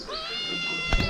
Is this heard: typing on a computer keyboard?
no